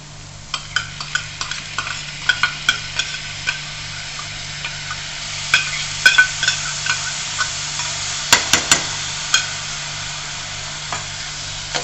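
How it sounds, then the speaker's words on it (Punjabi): Rice sizzles in oil in a pan with lightly browned onions, while a spoon stirs and scrapes with steady, repeated clicks against the pan. "ਵਿੱਚ ਆਪਾਂ ਚੌਲਾਂ ਨੂੰ ਵੀ ਇਸ ਤਰ੍ਹਾਂ ਹੀ ਭੁੰਨਣਾ ਹੈ"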